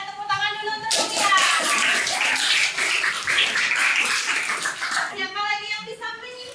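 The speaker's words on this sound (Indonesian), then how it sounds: "Tepuk tangan dulu untuk Novia" A classroom of students in a Hindu religious education lesson claps for a classmate, a burst of many hands lasting about four seconds, with someone talking before and after it.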